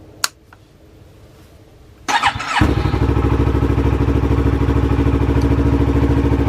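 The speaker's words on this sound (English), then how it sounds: "first things first, let's turn on the bike." A Yamaha R6 motorcycle gives a faint click, then its starter whirs briefly before the engine fires and settles into a loud, steady, fast-pulsing idle close by.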